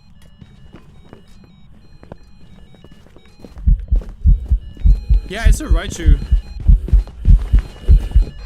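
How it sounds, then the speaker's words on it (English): Loud, steady heartbeat effect in the ghost-hunting video game Phasmophobia, thumping in a fast regular rhythm for the second half, with a player talking over it. "My heartbeat is like super loud."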